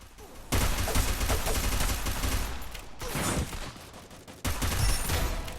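Bursts of rapid gunfire from the mobile shooter game Free Fire, loud and dense, with a brief pause before a second volley starts abruptly near the end.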